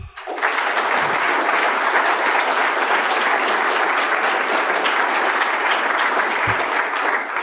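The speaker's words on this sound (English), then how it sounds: "another round of applause, please, for our conference director, Mr. Joe Salerno" An audience at an institute conference gives a round of applause for the conference director. It is a full, even burst of clapping that holds steady for several seconds and dips slightly at the very end.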